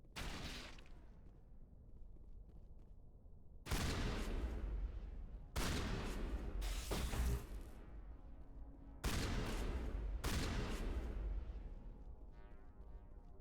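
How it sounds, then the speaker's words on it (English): A shotgun fires in the Mass Effect game: several heavy, booming blasts spaced a second or two apart, each trailing off with a long rumbling decay, and no voices. "Oh, it's a shotgun."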